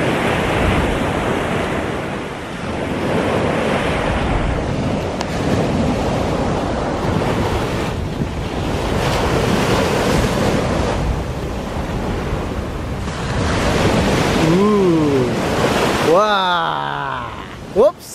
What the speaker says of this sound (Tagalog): Nakatakot yung alon.